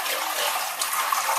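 Buckets of water are emptied into a bathroom shower pan for a leak test: a close, continuous splashing rush of pouring water with small surges, and no talking.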